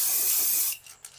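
Aerosol spray paint hisses steadily onto a motorcycle part, a loud continuous close spray for most of the moment before cutting off, followed by faint handling clicks.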